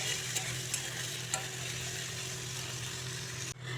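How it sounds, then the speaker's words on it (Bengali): Onions with salt frying in a pan, a continuous close sizzle with a few faint stirring clicks, steady throughout and ending with a small bump near the end. "পেঁয়াজগুলোকে আমি লাল লাল করে ভেজে নেব।"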